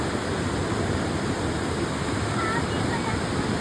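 Heavy rushing floodwater from torrential rain, a dense continuous roar like a waterfall or surf, steady and loud throughout with no breaks.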